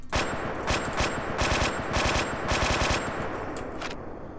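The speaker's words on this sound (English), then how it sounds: "That's the gunshot." Rapid automatic fire from a video game AK assault rifle, loud and close, in several sustained bursts of rattling shots that end abruptly.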